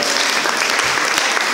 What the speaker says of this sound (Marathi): एकदा जोरात टाळ्या वाजवा त्यांच्यासाठी